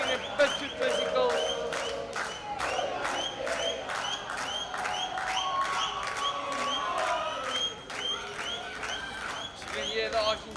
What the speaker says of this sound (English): You can hear the Argentinian players cheering their team on